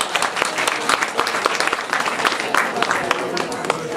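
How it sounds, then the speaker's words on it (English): Audience applause at a community venue before a talk on birth trauma, a brief burst of dense clapping close by, steady for about four seconds. "So let's give them a round of applause."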